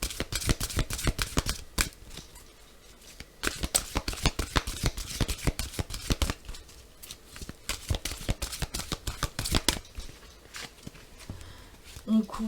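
A deck of guardian angel tarot cards is shuffled by hand in quick bursts of crisp riffling flutters, close and clear, and then cut, while someone speaks over the card sounds.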